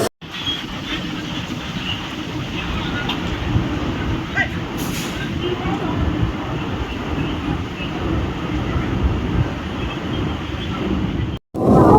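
An EMU suburban train runs near Chennai with a loud, steady rumble and rattle from the carriages plus wind rush, cutting out briefly near the end.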